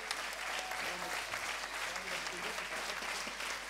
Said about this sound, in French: applaudissements pour eux deux